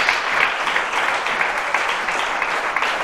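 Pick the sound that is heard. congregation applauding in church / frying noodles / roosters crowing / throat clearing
congregation applauding in church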